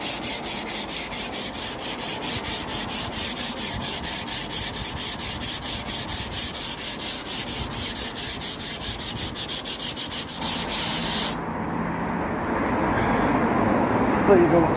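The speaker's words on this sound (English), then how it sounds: "Makes it lovely and flat because it's like a rubbing block, and keep it flat to the stone." A rubbing block is scraped back and forth over painted stone to sand the paint off, a rapid rhythmic rasping that is steady and close, then stops and leaves rougher handling noise and background rumble.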